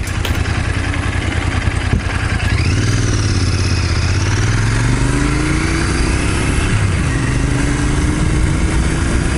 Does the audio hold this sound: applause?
no